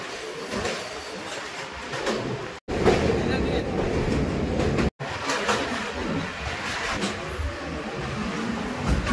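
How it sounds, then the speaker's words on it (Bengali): A WAG-12 electric locomotive and its train pass by, heard from aboard the Puri–Shalimar Dhauli Express as a loud, steady rush of rolling wheels and rail rumble with brief cut-outs, continuous and close. "WAG-12 locomotive."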